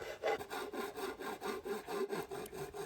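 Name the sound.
metal file filing a motorcycle front mudguard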